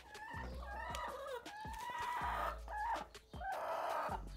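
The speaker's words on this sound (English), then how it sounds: "let's watch a bit of the chickens" Chickens in a backyard coop cluck and squawk up close, with a rooster-like crowing call among them, a busy run of overlapping bird calls with brief pauses.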